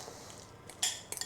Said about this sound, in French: On écrase la banane à l'intérieur.